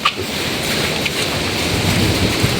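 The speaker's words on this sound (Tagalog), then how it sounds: "Sobrang lakas kasi ng ulan." Dense, steady roar of heavy rain pounding continuously, loud and close, with no voices.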